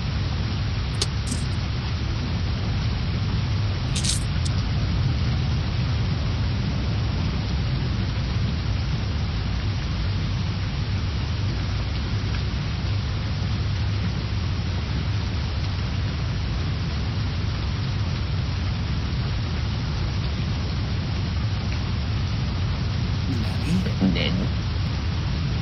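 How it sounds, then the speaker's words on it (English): Steady rain ambience from the Homestuck game, a dense even wash of falling rain running unbroken throughout, with a couple of faint brief clicks on top. "You wonder if this rain will ever let up"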